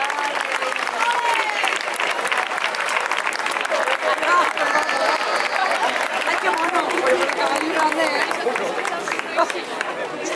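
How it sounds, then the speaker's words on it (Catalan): A crowd applauds steadily and loudly at an outdoor horse blessing for Sant Antoni Abat in Canals, sustained clapping filling the whole stretch with light chatter underneath. "Un fort aplaudiment."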